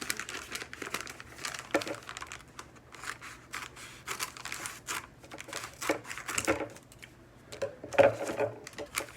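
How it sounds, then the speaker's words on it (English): A cardboard shipping package is cut open for an unboxing, giving irregular crinkling, rustling and scraping bursts of packaging material, close by, with short pauses between handling noises and no speech. "This is the package it came in and everything. I'm going to cut it open."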